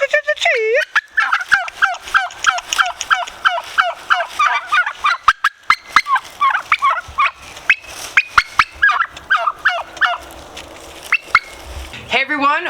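Homestead turkeys gobble loudly and repeatedly close by, rapid warbling calls overlapping in dense bursts that continue almost without pause, with a few sharp clucks among them.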